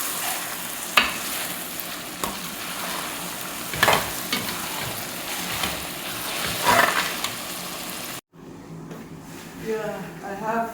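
Onions for chicken yassa fry in a pan, giving a continuous close sizzle with occasional louder stirring scrapes, broken by a short cut near the end.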